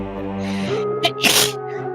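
A single sharp sneeze bursts out over a sustained musical chord.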